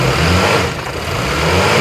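A car engine with broken motor mounts revs hard up close, a loud, rough, steady roar that dips briefly before climbing again.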